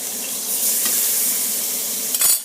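Chuck roast meat sears in a hot pan with a loud, steady sizzle, and a brief clatter of the meat being turned comes near the end.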